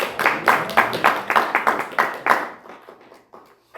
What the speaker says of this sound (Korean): 우리 좋으신 하나님께 박수 올려서 드립시다.